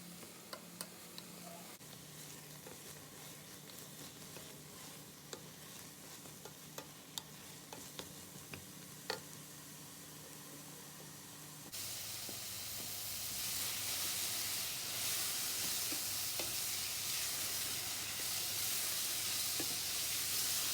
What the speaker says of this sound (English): You need to keep stirring all the time, and we're going to do that for 2 to 3 minutes